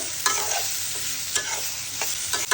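Sliced onions fry with salt and turmeric for beef biryani, a steady hiss of sizzling oil broken by several scraping stirs of a spatula in the pan.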